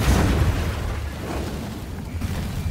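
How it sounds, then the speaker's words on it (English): Deep booming explosions in the video game Resident Evil 2 rumble loudly at the start, then fade into a low, continuous roar of debris and distant blasts. "Explosions!"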